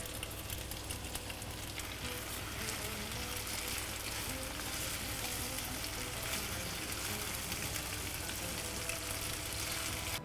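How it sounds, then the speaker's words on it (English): Parboiled pasta sizzling steadily in a hot pan as it is stir-fried, a continuous fine crackle and hiss at moderate level with faint stirring, no talk. "I already parboiled my pasta, so I'm just going to be adding in the pasta."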